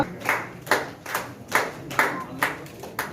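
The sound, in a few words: audience applause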